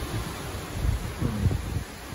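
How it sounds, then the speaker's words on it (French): Steady mountain wind in Quebec blowing across the microphone, a low rumbling rush with gusts swelling and fading, no voices. "vous entendez le vent"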